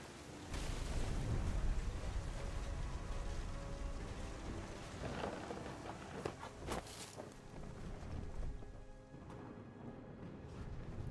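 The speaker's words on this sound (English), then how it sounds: "thunder sounded much too close and full of angry power" A thunderstorm in What Remains of Edith Finch brings steady, dense rain hiss with low, rolling rumbles of thunder underneath and a few sharper cracks partway through, continuous and fairly loud with no voices.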